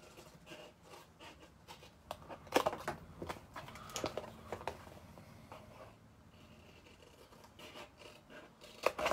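Scissors snip away parts of a paper Halloween treat box, with a run of short, crisp cuts and small paper rustles, close but fairly quiet, and a quieter stretch partway through.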